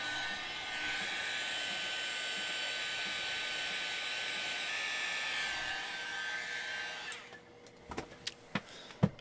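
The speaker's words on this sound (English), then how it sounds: "Alright, so now I'm just going to heat gun this." A heat gun blowing on HC zinc smoke composition, a steady loud whirring blower hiss for about seven seconds that then cuts off, followed by a few sharp clicks and knocks nearby.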